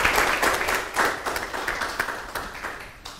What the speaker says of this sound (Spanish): Un aplauso, por favor, para todas ellas y ellos y ellas.